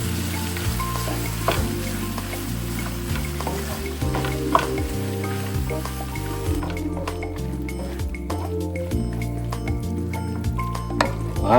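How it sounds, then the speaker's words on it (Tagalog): Chopped pork belly for crispy lechon sisig fries loudly in a pan, giving a continuous crackling sizzle with wet squishing and repeated spatula scrapes and clacks as it is stirred, close up, with no talking. "Give it a good stir."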